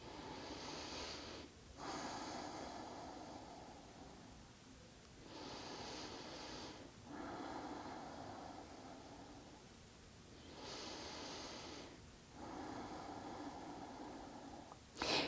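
Slow, deep yoga breathing: long airy inhalations and exhalations in a steady cycle of roughly four to five seconds each, soft and close, with no talking.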